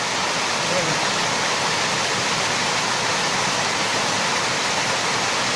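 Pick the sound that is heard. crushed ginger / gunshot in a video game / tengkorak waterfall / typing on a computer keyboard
tengkorak waterfall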